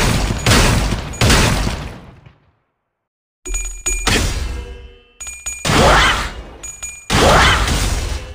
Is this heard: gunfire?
yes